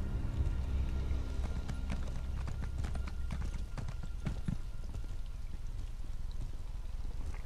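A horse's hooves clop in quick repeated beats as it is ridden in the game Elder Scrolls Online, moderately close and fairly quiet over a low rumbling background, with no speech.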